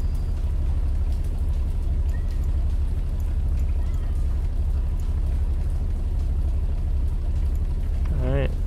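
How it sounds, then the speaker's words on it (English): Heavy rain drumming steadily on a car in the video game 80s Thief Simulator, a constant dense hiss and low rumble throughout, with a brief chirpy tone near the end. "Dang, that rain is loud."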